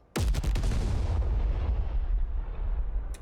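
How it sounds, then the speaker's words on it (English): A loud, sudden booming explosion in the cooking game Cook, Serve, Delicious! 3, as a restaurant is destroyed, hits sharply and then rumbles and decays over a few seconds with no voices. "Everything blew up."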